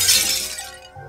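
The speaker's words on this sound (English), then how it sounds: "Could just be a coincidence that we heard glass breaking." Window glass shatters loudly in a video game about evil animals invading a house, a sharp bright crash that decays over about a second.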